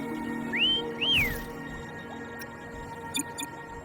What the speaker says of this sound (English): Why don't you call Foam over? Try whistling